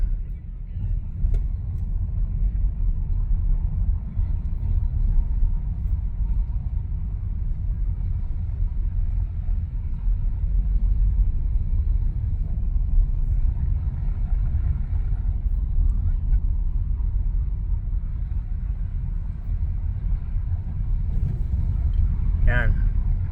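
Steady road traffic rumbles from a vehicle heading back to a garage, a continuous low engine and tyre drone with passing cars and no pauses.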